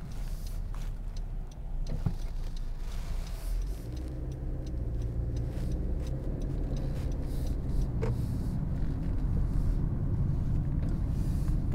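Cabin of a 2022 Honda CR-V Sport Edition SUV on a cold-day drive back into town: steady low road rumble and engine drone that builds slightly, with faint ticking, and no talk.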